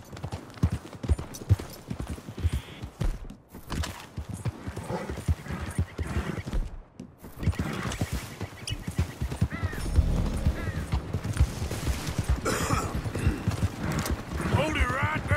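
A horse in the Red Dead Redemption 2 video game gallops with rapid, rhythmic hoof clip-clops and lets out whinnies, under frequent spoken dialogue and game sounds.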